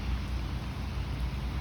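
Steady rain falls at a campsite in Norway, a dense, even patter and hiss with no breaks, close by and constant across the short stretch.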